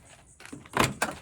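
A van door being unlocked and opened, a quick series of close clicks and latch knocks building to a louder clunk as it swings free.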